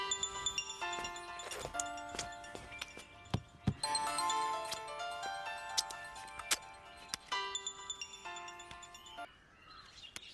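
Mobile phone ringtone of an incoming call, a bright repeating melodic tone with ticking accents playing steadily and fairly loud through the whole stretch, with no voices over it.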